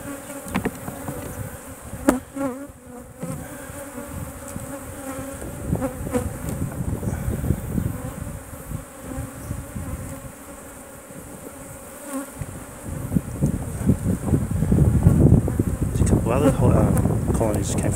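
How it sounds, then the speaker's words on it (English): Dense buzzing of many bees around a strong nucleus colony hive, steady and close, with occasional louder passes near the microphone and some wind. "So as you can tell from the number of bees, that's pretty strong."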